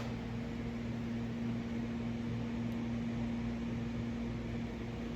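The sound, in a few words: hot cutter cutting and melting polyfiber fabric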